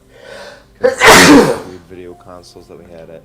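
A single loud, close sneeze bursts out during a conversation, with people talking before and after it.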